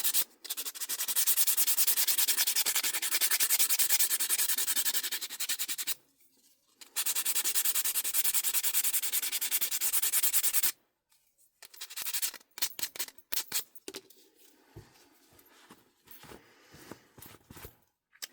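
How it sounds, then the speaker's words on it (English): A small sanding disc grinds across a glittery eco resin art piece in long continuous passes, stopping briefly, then giving way to short scratchy bursts near the end. "I have a little sanding disc."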